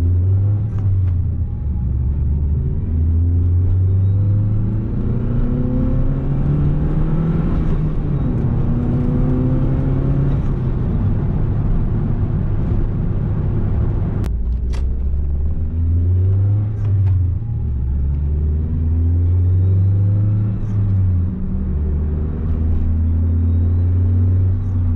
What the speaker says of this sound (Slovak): mne sa to takto páči, že je viacej počuť to turbo